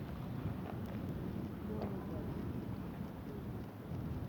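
Strong wind blowing outdoors in a park on a sunny day, making a constant loud rumbling buffet across the microphone, close and unbroken throughout.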